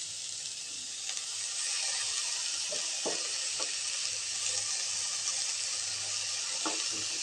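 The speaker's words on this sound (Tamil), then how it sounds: "வெங்காயம் நல்லா வதங்கிடுச்சுங்க. இப்போ கீரையை போட்டுக்கலாங்க." Sirukeerai spinach tossed into well-sautéed onions in a pan sizzles steadily with a bright hiss, while a few soft knocks and scrapes of stirring sound underneath.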